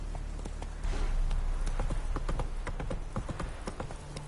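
Roach the horse trots in The Witcher 3, with a quick, regular run of hoof clip-clops thudding close over low game ambience.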